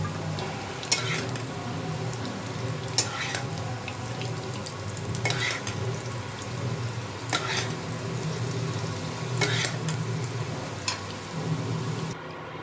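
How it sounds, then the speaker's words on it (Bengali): Potatoes sizzle steadily in hot oil, a close, continuous crackling broken by occasional sharp scrapes of stirring, with no talking. "আলুগুলো অনেকটাই ভাজা হয়ে গেছে, এবার আমি এগুলোকে তুলে ফেলবো"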